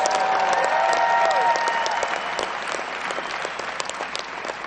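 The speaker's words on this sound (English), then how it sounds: "Give them a round of applause." Election night victory crowd claps and cheers loudly for Bill de Blasio's supporters in New York City, the dense applause swelling at first, then easing slightly, with a few whistles and shouts near the start.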